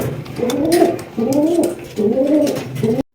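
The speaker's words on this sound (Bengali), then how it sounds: "এখানে দেখতে পাচ্ছি আরো একজন চমৎকার একজন মাক্সি কালারের শোকিং কবুতর" Maxi-coloured pigeons coo close by in a bird market, three rising-and-falling throaty calls in a steady rhythm, each about a second long, over faint background noise.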